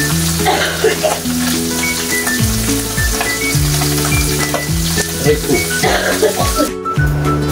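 Garlic sautéing in a hot pan gives a steady, loud sizzle and crackle, with a tonal musical bed running underneath throughout.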